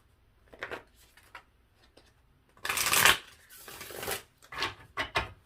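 Oracle cards are shuffled by hand, a few soft riffles at first, then a longer, louder flurry of shuffling followed by several brisk bursts, close and alone without talk.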